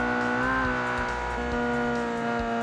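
Flat-plane crank car engine in a car-building video game, a steady loud buzzing drone at sustained revs with a slight pitch climb and tire squeal underneath.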